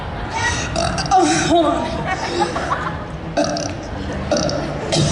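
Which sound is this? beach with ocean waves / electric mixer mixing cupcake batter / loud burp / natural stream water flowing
loud burp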